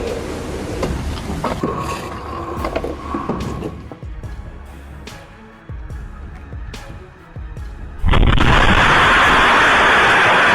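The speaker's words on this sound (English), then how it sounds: "a massive explosion from a house blasts the front door straight into the street" Blasts and rumbles from a house explosion that sends the front door flying into the street, with sharp bursts scattered through, then a loud sustained roar of debris and noise in the final seconds.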